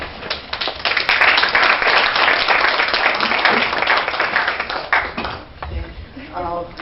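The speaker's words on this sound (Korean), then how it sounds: "여러분 다시 한번 큰 박수 부탁드리겠습니다" An audience at a Seoul ecology and culture forum applauds loudly after a lecture, with sustained dense clapping for several seconds that fades as a voice speaks at the end.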